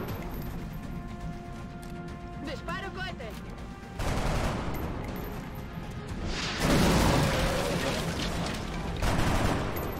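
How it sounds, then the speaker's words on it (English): A rocket is launched in XCOM Long War, with a sharp burst, then a loud rushing blast and crashing explosion noise that swells and lingers over several seconds, layered with game effects and a voice. "huck a rocket at the others"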